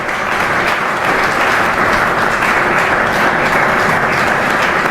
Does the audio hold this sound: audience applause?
yes